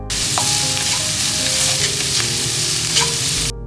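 Onion and salt fry with garlic and green chilies in a pan, making a loud, continuous sizzle with occasional stirring clatter, close and uninterrupted until it cuts off abruptly.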